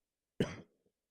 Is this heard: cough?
yes